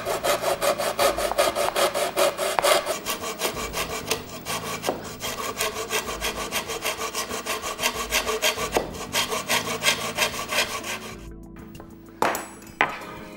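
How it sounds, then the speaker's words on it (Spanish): A hand saw cuts through wood to free a tenon, a fast rhythmic rasp of back-and-forth strokes up close, then pausing near the end with a couple of sharp knocks. "Volvemos a introducir el serrucho y seguimos cortando"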